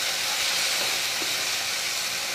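Spiced masala frying in oil for a drumstick gravy, a steady close sizzle and hiss running unbroken with no other sounds.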